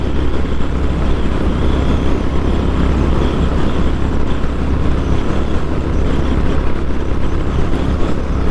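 Honda GB350S motorcycle cruising at speed in fifth gear, around 70 mph, with a steady, unbroken engine drone mixed with heavy wind rush that stays loud and constant throughout.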